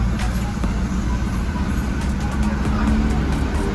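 A Toyota Revo pickup's engine idles steadily after a push-button smart key start, a low, even rumble close by with a faint voice in the background.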